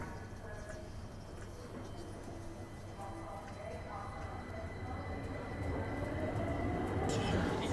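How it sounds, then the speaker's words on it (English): A steady rumble inside a Southern train heading to Blackheath, low and continuous, swelling slightly louder toward the end with faint rattles over the drone. "on the train to Blackheath and Southern trains"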